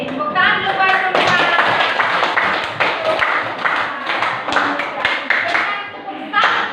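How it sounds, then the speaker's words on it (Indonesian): Classroom of students clapping hands together in a dense, loud burst of overlapping claps lasting several seconds, with a few sharper slaps standing out. "Tepuk tangan dulu buat semua."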